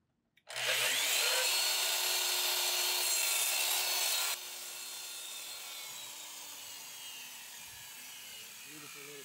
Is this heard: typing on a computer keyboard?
no